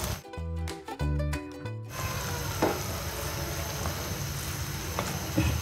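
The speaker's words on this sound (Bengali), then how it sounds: "এভাবে একটু নেড়ে নিতে হবে কিছুক্ষণ পর পর।" Thickening mango jam bubbles and sizzles in a pan while it is stirred, a steady close cooking hiss with soft scraping, following a brief burst of music.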